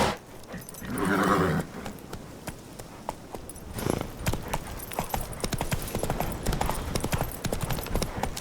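Hooves of the horse in The Witcher 3 pound along at a gallop, a close, rapid, rolling clatter that builds in the second half, with a horse snort or whinny near the start.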